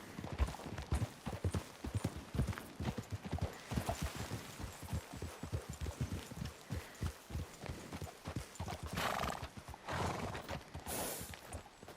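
Horses in Red Dead Redemption 2 clip-clop steadily at close range over twelve seconds, with a quick whinny near the end amid soft outdoor ambience.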